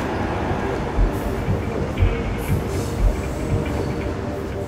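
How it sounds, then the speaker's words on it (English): A train rumbles past steadily through a steel mill, with a low continuous roar and periodic heavy clunks of wheels over rail joints, amid industrial background noise. "There's a train going by right now."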